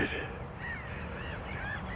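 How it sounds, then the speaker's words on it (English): Outdoor birds call across a field after rain and wind, a few crow-like caws and chirps at moderate distance over steady background noise, with no talking. "the birds are having a field day over there."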